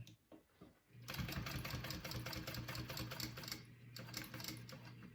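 A sewing machine stitches a bag strap, its rapid needle chatter starting after a soft rustle and running fast and steady, pausing briefly before resuming, close and alone.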